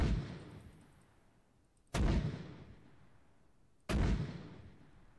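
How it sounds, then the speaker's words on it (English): Artillery rounds fired in the ARMA 3 Warhammer 40k mod video game: three heavy distant booms spaced about two seconds apart, each with a long rolling decay into quiet. "I'm going to shoot 3 rounds going out"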